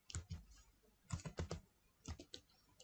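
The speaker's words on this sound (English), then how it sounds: "you need to type email address where you want to send mail" Typing an email address on a computer keyboard: quiet clusters of quick key clicks in three short bursts separated by brief pauses, close and alone.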